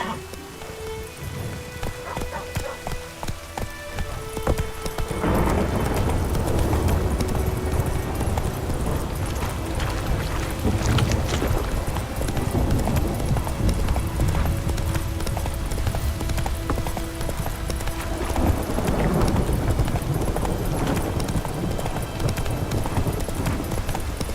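Horse hooves clip-clop steadily in The Witcher 3 video game, a continuous galloping patter up close with rain-like game ambience underneath and a brief voice at the start.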